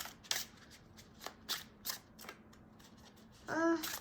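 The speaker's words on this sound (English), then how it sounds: "Hand-to-hand shuffle." Rapid hand-to-hand shuffling of playing cards on 330 stock, a series of soft flicking bursts over a quiet background, ending in a louder rustle.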